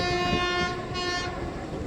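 A train horn sounds loud and steady, holding one sustained tone at Hubballi railway station, the world's longest platform, over a rumbling train, with no talk.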